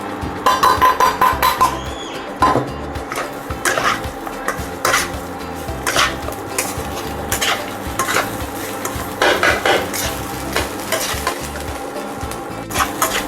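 Rice is stirred into fried coconut in a pan for crunchy peanut coconut rice, with a spatula scraping and clinking against the metal in repeated strokes over a soft sizzle.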